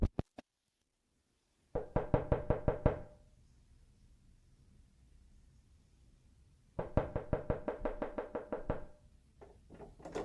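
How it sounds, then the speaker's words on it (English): Knocking on a front door in two bursts of rapid, loud raps, each about a second long, several seconds apart with quiet between and a couple of stray taps at the start and end. "Not long after, Nat heard knocking at his front door"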